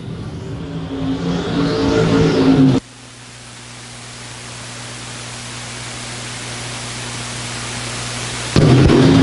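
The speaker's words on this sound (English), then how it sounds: "So your stock car USRA Race Winner Series coming to a close now into turn 3 and out of turn number 4" USRA stock cars race on an oval track at a nationals event during the final laps, giving a loud, steady engine roar that drops out abruptly to a low hum before the roar swells back at the end.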